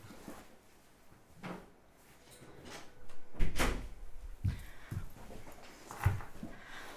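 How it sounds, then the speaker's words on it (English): A door closing during a quiet study session, with soft shuffling and a few muffled knocks building to a dull thud of the door shutting and some wooden clatter afterward. "Oh, I didn't close the door."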